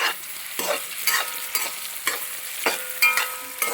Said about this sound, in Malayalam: മുരിങ്ങക്കോൽ ഇട്ട് കൊടുക്കും. ഇനി ഇളക്കിക്കും.